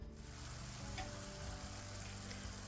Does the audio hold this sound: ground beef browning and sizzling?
yes